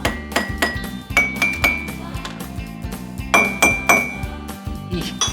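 Bright ringing clinks of water-filled glasses tapped with a marker one after another in a rhythmic melody, each soft tone ringing briefly before the next.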